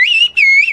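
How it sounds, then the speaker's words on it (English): A villager in the remote mountain village of Kuşköy, Turkey, whistles the Turkish bird language: two loud, close, sustained whistled phrases that glide up and down, split by a short break, with no speech. "What you hear now is not just a whistle."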